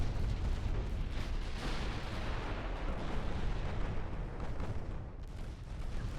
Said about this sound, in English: Start shooting at the battleships.